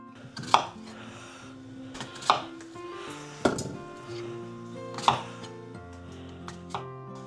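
A knife chops down onto a cutting board in slow, separate strokes, five sharp knocks about a second apart, close up with faint kitchen clatter.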